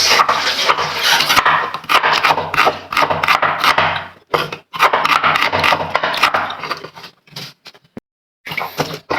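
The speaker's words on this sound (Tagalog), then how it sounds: "So magbalat muna tayo ng sibuyas." Onions being peeled by hand in a home kitchen make dry, papery rubbing and scraping in close, loud bursts, broken by short pauses and a few sharp taps.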